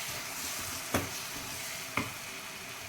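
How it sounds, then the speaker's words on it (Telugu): Ginger paste and tomato puree fry in hot oil with a continuous loud sizzle, punctuated by two sharp stirring scrapes, no voices. "ఇవన్నీ చక్కగా నూనె తేలే వరకు ఫ్రై అవ్వాలి."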